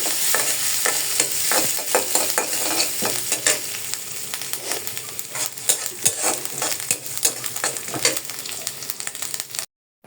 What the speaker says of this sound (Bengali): অল্প কাটা কালি জিরা ভেজে নিচ্ছি এটাও যাবে ভর্তার সাথে